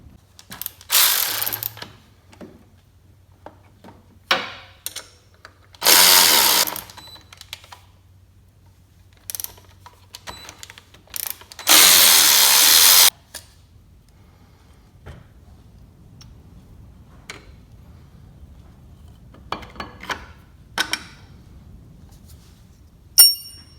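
Hand wrenches loosening and removing the alternator on a John Deere 450 crawler: bursts of loud ratcheting clicks separated by softer metallic taps and clinks of tools, close up, with no talking.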